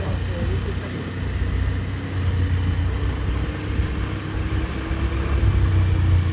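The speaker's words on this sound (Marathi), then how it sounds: "आता जाईन बघ दगडवाली गाडी." A four-wheeler car pulling away, a steady low engine rumble and road noise lasting throughout, close and fairly loud, with voices talking over it.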